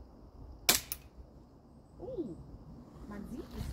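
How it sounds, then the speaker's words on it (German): A Piexon Guardian Angel II pepper spray launcher fires a charge outdoors near a tree with one sharp, loud crack, followed by a faint second pop, then quiet with low voices. "werde jetzt einfach mal die erste Ladung abschießen"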